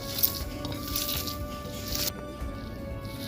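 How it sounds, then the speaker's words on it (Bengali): Wet, squelchy squishing as a taki fish bharta with fried green chilies, chopped coriander and salt is mashed by hand, close and continuous. "স্বাদ মতো লবণ দিয়ে আমি মেখে ভোতাটা তৈরি করে নিব"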